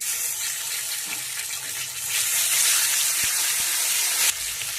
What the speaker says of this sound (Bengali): এইভাবে নেড়ে চেড়ে আদাটা দেখো ছানার মতন ছেড়ে গেছে মানে ভাজা হয়ে গেছে